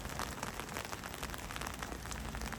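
Steady rain falls over a garden of passion fruit vines and cherimoya trees, a dense, even patter of drops on leaves and surfaces filling the whole stretch without pause or voices.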